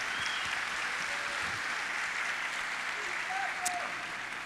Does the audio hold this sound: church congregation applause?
yes